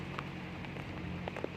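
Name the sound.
heavy rain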